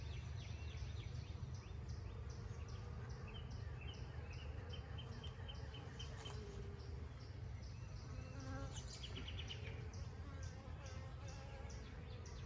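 Honeybees buzz around an open hive in a steady, dense drone that fills the whole stretch, with individual insects occasionally passing closer over the constant hum.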